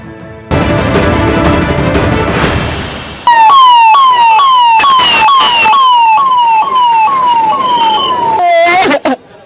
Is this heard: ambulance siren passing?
yes